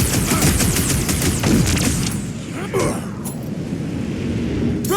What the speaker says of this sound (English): Hey, Quill! Wanna see some fireworks?